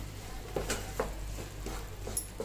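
Spoon stirring milk into a coconut mixture for ladoo in a pot, a few soft scraping strokes at an even pace, close and fairly quiet over a low kitchen hum.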